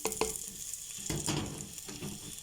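Chopped onion fries in ginger garlic paste, a close, steady sizzle with occasional scraping stirs and no talking.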